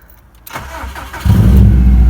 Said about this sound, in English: Feet outside the car, not on the clutch. And we're gonna see if it starts.